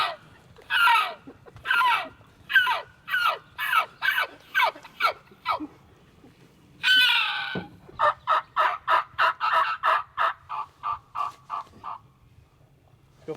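Wild turkeys at a roost in Montana gobble repeatedly, several rapid rattling bursts in a quick string, then a long call, then another long run of gobbles fading slightly, fairly clear against a quiet outdoor background.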